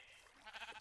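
A sheep bleats in a short, wavering cry that swells in the second half of the brief moment, fairly close and alone with no talk.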